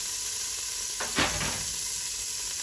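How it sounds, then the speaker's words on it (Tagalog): Onion and garlic dropped into browned butter, a sudden loud sizzle that flares up then settles into a steady frying hiss, close by with no talking. "Our aromatics like onion, garlic, sabay-sabay na po yan."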